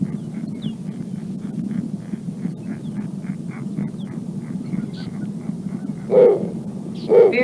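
An Illinois owl calling: a long series of short, regular notes over a steady low background hum, then two louder, rougher calls near the end.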